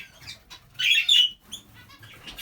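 Budgie chicks chirp in brief high bursts, with a louder flurry of calls and wing flapping near the middle of the short stretch, close by, with soft rustling between.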